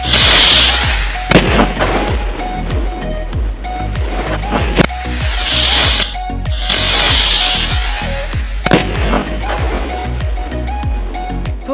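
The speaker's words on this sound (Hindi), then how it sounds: "देखा आपने कितना बड़ा धमाका हुआ" Repeated sharp bangs and crackling bursts of rocket fireworks and bombs go off close by, with hissing whooshes between the loud, irregular blasts.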